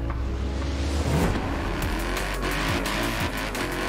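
A Mercedes AMG C63 in Forza Horizon 4 revs loudly and continuously at low engine speed, a deep, close, throbbing exhaust note with slight rises and falls in pitch throughout.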